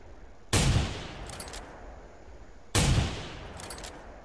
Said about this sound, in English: I'm shooting her, man, on the side